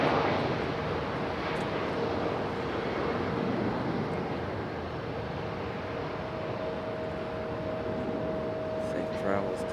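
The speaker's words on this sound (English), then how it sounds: "Go Copa Airlines on their way back to Panama City," A Copa Airlines jet departing Raleigh-Durham for Panama City, a distant, steady broadband engine roar with a faint droning tone running through it, fading slightly midway and then holding level.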